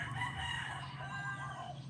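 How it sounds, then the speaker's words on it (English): A rooster crows continuously in a drawn-out call, moderately close, with faint background noise. "But here I am, roosters going off"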